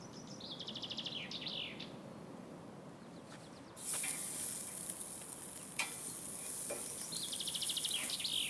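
Steak cooking on a hot surface, a low steady sizzle that swells louder partway through, with bird chirps sounding faintly in the background.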